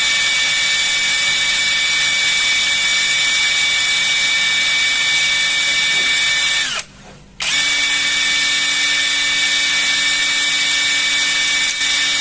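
A Dagmara D3301 impact wrench on a Samsung battery pack spins in loosening mode with a loud, steady high-pitched motor whine, briefly stopping for a moment midway before running again at the same pitch.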